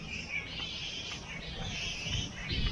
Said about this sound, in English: A bit of bird life.